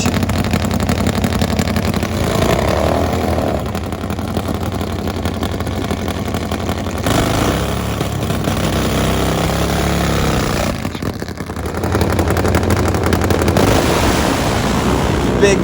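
Nitro-fuelled Harley drag-racing motorcycles thunder down the strip in a continuous loud, broadband roar, with a brief drop around the middle before the engine noise surges back up to the end.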